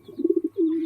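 Pigeons on a rooftop near an open coop give soft, low cooing calls close by: a run of short pulsing coos followed by one longer drawn-out coo, with no talk.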